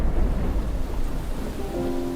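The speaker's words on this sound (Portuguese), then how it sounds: "Ouviu-se o estampido do trovão e o lampejo do relâmpago. Logo passaram a cair grandes gotas de chuva." Heavy rain pours steadily with a deep rumble of thunder rolling underneath, loud and continuous, with a faint tonal hum entering near the end.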